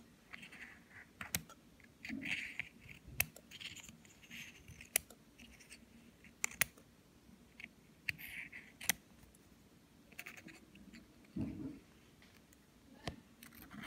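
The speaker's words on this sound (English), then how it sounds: "let's start cutting this egg" Scissors cutting into a ball python egg shell, sparse faint snips and clicks spread through a quiet stretch, with occasional soft handling noises.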